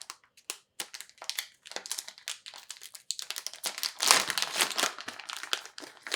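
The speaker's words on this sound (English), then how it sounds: "very loud, crunchy, anti-static bag" Anti-static plastic accessory bag for an LED light being handled and crumpled, loud crunchy crinkling in irregular bursts, close up, rising to a busier crackle midway.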